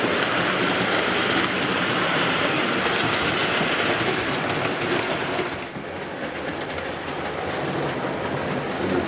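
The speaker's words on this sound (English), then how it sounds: "What a nice, graceful locomotive that is." An N15 model locomotive pulling a rake of carriages on a model railway layout gives a steady, continuous rolling rumble with fine clicking from the track, fairly close and loud, easing slightly toward the end, with no talking.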